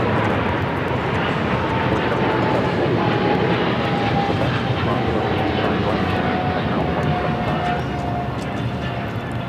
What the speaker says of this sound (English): China Cargo Airlines 222 taking off to Shanghai on the 777 freighter.